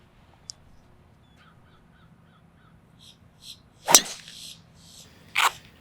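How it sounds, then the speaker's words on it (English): Crows caw outdoors on a foggy morning golf course, with two loud harsh caws and a few fainter calls standing out over a quiet background. "Love these birds, man. Birds, birds, birds."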